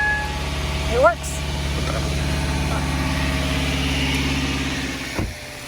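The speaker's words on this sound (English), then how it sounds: "Yep, the engine is running." A car engine idles after being jump-started with a portable jump starter, a steady low rumble and vibration throughout, with a brief voice and small clicks over it.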